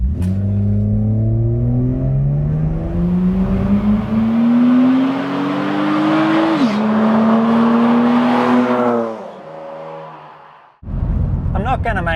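A tuned naturally aspirated Barra engine pulls hard on a street drive, its loud, rising engine note climbing steadily through a gear, dipping at a shift and revving up again before backing off to a low rumble.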